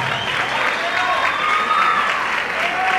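Audience at a salsa congress in Córdoba applauds a salsa dance group, dense, steady clapping filling the room at close range, with a faint voice over it.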